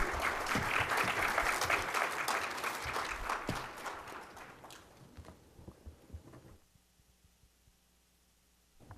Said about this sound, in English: A stronger round of applause for our panel.